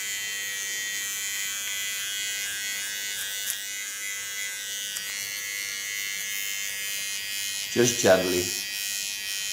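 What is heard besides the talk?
electric hair clipper trimming hair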